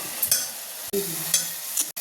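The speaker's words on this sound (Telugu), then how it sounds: "మొత్తం వేసుకొని బాగా కలుపుకోవాలి" Chicken curry masala with curry leaves, coriander and mint sizzles softly in a pan while a spoon scrapes and stirs it in short strokes, with a couple of sharp clicks.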